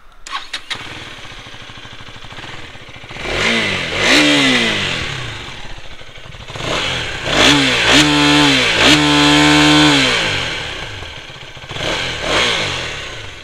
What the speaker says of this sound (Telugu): ఎగ్జాస్ట్ నోట్ కూడా వినిపిస్తాను